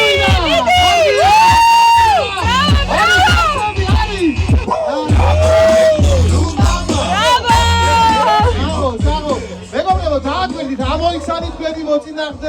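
A large crowd at a car festival cheers, whoops and shouts continuously, with many excited voices, including children's, rising and falling together and staying loud throughout.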